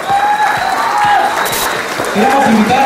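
A crowd applauds at the inauguration of a youth social inclusion forum in San Salvador, sustained clapping mixed with cheering voices and whistle-like tones, loud and close over the full stretch.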